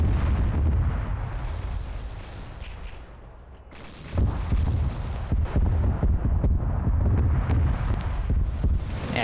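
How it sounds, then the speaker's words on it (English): Long-range Hydra gunfire in a sci-fi strategy battle rumbles as dense, continuous artillery-like bursts and booms, loud throughout, easing briefly before swelling again into heavy overlapping fire. "Now we're seeing some long-range fire between these groups."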